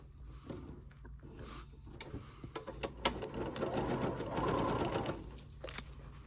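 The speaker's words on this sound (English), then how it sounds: "I'm going to lower my presser foot and sew right on that stitching line" A sewing machine stitches quilt pieces along a seam line, running in a steady close whir that swells and holds for a few seconds after some quiet handling clicks.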